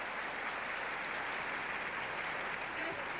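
Steady applause from a tennis crowd at the 1971 US Open after a volley, a dense, even wash of clapping that holds at full strength throughout with no gaps.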